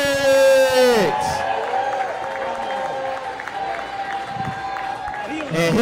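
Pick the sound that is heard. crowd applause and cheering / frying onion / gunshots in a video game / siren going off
crowd applause and cheering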